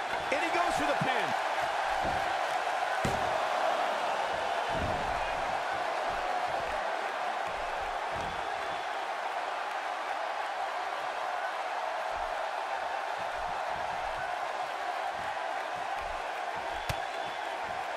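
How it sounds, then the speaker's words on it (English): Crowd at a live wrestling event roars and cheers continuously as a commentator talks over it, with occasional thuds and slams from the ring cutting through the steady arena noise. "by the sound of this crowd, I think they're getting what they wanted"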